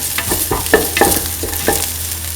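Ingredients for a lentil, winter melon and coconut rice dish sauteed and stirred in a pan, with a steady sizzle and several distinct scraping stirs of the spoon against the pan, close and fairly loud, no talking.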